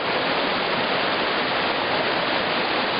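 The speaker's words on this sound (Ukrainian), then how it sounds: "Ось зараз ми приближаємося до річки." The Zhenetsky waterfall and its river roar in the Carpathians, a loud, dense, unbroken rush of falling water heard up close and alone.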